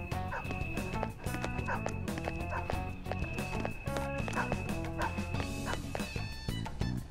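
Persona 5 Royal video game dog barking, a string of repeated short yips and barks mixed with game music and chiming effects, steady and fairly prominent throughout.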